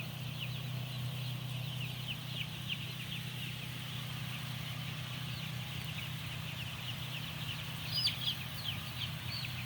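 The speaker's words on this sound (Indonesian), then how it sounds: "ayam begitu mematok langsung kena pakan" Broiler chickens cluck and chirp continuously inside a closed poultry house, a steady murmur of many birds over a constant low mechanical hum.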